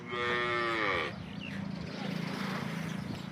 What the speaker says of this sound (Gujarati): એ કારિયા ગાય આવી છે।